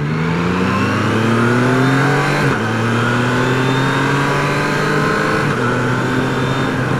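A 2022 Triumph Tiger Sport 660 three-cylinder motorcycle accelerates hard, its engine pitch climbing steadily, then dipping briefly for a quick, smooth assisted upshift before rising again. The sound is loud, continuous and close, with no voices.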